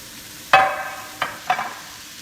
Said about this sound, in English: we're browning up well here our sausage and our onion